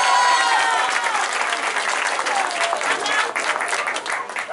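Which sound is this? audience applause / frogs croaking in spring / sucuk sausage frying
audience applause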